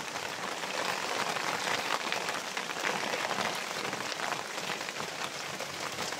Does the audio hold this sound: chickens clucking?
no